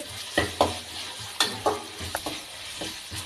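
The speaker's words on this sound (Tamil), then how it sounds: "இந்த மாதிரி நல்லா வதக்கணும். அப்போ தான் அது தக்காளி தொக்கு நல்லாயிருக்கும் சாப்பிட." Tomato thokku sautés in oil while a spoon stirs it in the pan. Sharp, intermittent scrapes and clacks ring out over a faint, steady sizzle, with no voices.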